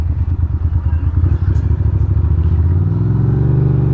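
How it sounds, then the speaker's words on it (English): A bus on a Brooklyn street in Fort Greene rumbles past with a heavy, clattering low engine throb that rises and settles as it moves by close at hand. "wait for the bus to pass,"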